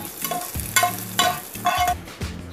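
A tempering of roasted coconut and curry leaves sizzling as it goes into Kerala pumpkin erissery, with bursts of crackle alternating with low scraping stirs, close and fairly loud.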